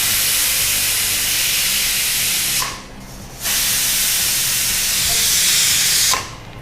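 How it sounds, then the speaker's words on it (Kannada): A steel pressure cooker cooking chicken lets off loud, close hissing steam whistles in two long bursts separated by a brief pause. "ಆಲ್ಮೋಸ್ಟ್ ವಿಸಿಲೆಲ್ಲ ಬಂದಿದೆಲ್ಲ"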